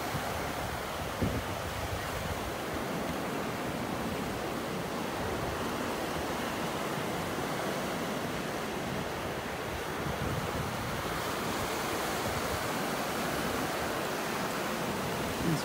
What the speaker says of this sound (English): Come on, waves, get back there.